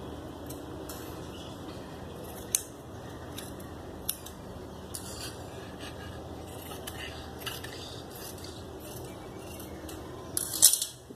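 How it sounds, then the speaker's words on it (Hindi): Scissors cut fabric into strips for capri trousers, giving sparse, faint snips over a quiet room that turn into a louder cluster of cuts at the end. "तो इस तरीके से ये हम 2 पट्टियां काट लेते हैं"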